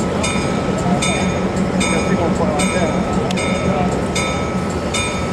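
The Soo Line 2500 streamliner locomotive backs off a turntable onto a track, its steady loud engine rumble accompanied by regular rail clicks roughly every three-quarters of a second.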